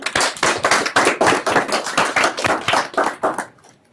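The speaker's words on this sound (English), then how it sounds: "A round of applause for Dr. Huang." An audience at an innovation meet-up claps for Dr. Huang, a dense burst of applause that holds steady for several seconds and then tapers off quickly at the end.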